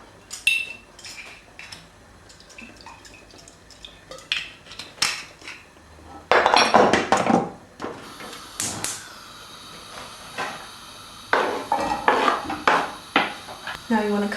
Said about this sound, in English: I'm going to fry the onions on a frying pan in some olive oil.